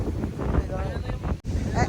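Strong wind on a hike buffets the microphone in a constant low rumble, with voices faintly talking underneath.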